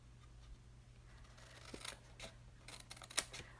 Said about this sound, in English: on these score lines, we're going to cut these flaps